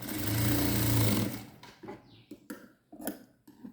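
A sewing machine runs steadily while stitching a blouse, then stops; a few faint clicks and handling noises of fabric follow, with no talk.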